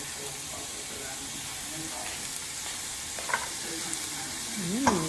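Onions fry in a pan beside butter chicken, sizzling in a steady hiss with occasional clinks of a utensil stirring, and a voice speaks briefly.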